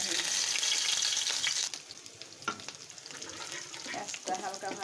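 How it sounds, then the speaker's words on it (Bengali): Onions fry in a kadai on the stove, a loud, bright crackling sizzle that drops suddenly after a couple of seconds to a softer bubbling hiss with occasional stirring scrapes. "পেঁয়াজটা হালকা ভাজা হয়ে গেছে।"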